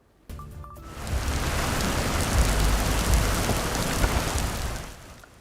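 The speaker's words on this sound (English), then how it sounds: "Some heavy rain coming down there." Heavy rain pours down in a steady, dense roar after a brief moment of near silence, holding loud and even for several seconds before easing slightly at the end.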